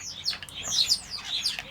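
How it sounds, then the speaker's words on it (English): Wild birds chirping around a tree hung with garden bird feeders, a busy run of quick high tweets and calls, moderately close and overlapping, with no talking. "Here are all my birds outside"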